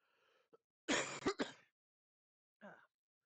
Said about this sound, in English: still got a bit of a cough